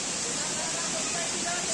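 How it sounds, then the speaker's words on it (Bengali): Water of Dhangikusum Falls at Kakrajhore, flowing over rocks through forest before dropping far below, makes a steady, even rushing roar that holds constant throughout, with no clear speech over it. "এখন ঝর্ণার জলের আওয়াজ আরো জোরদার হচ্ছে"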